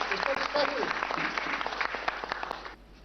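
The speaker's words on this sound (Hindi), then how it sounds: "तालियां बजवाइए" A crowd claps steadily for a few seconds with voices mixed in at a quiz show, then the applause fades out.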